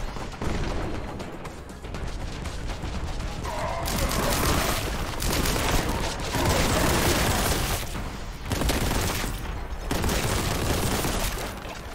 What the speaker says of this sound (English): Let's try a crap grenade, see what that does